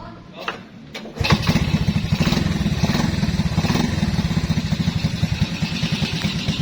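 A 1981 Honda C70 motorcycle with its original three-speed engine catches after a couple of clunks and settles into a rapid, steady putt-putt idle, close and loud throughout.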